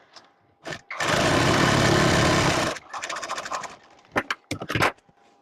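A sewing machine stitches tucks on a blouse, first running in one sustained whirring burst of almost two seconds, then a few short stop-start runs. It is close and clear, with no talking.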